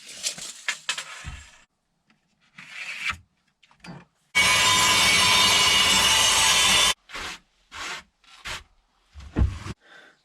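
Rubber bin cover or piping is cut for a car camper bed, with short scraping and rubbing strokes followed by a loud, sustained rasping cut lasting a couple of seconds, then more brief scraping bursts, all close by.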